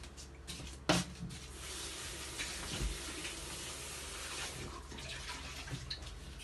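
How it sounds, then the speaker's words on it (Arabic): Tap water running over eggs being washed, a faint, steady splashing stream with a brief louder knock early on, quiet and close, with no talk. "انا عدنا كنغسلو البيض كما راكم عارفين، نغسل البيض."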